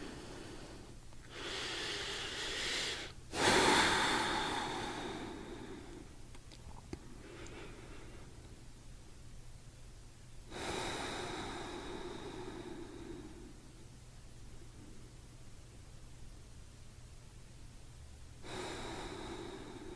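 Slow, deep breaths during a yoga session for the lower back and hamstrings: long airy inhales and exhales spaced several seconds apart, close and fairly soft, one sharper breath near the start, with no talking.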